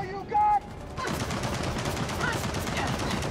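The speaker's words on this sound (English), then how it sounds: "I'm gonna shoot him with my pistol" A pistol fires in a Gears of War 4 co-op campaign, a sharp crack of gunfire followed by a dense burst of rapid shots and loud battle noise.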